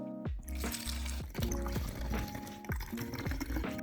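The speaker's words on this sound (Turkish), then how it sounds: "itil alkolümüzü şuradaki ağırlığımıza bakarak yavaş yavaş boşaltmak istiyorum" Ethyl alcohol poured slowly from a bottle into a container on a scale, while making a rooting hormone: close, continuous glugging and splashing in a series of gurgling bursts with rising pitch as the vessel fills.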